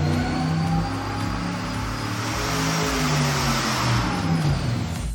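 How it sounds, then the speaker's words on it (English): A turbocharged engine revving hard on a dyno through a 4-inch Flowmaster chambered muffler, giving a loud, sustained, throaty roar with rising pitch, close up and with no talking. "now we've got the 4-inch Flowmaster chambered muffler on there"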